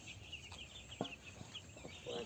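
Chickens on a poultry farm holding about 1700 birds give soft, scattered clucks and brief calls, faint and somewhat distant under a constant hiss of background noise.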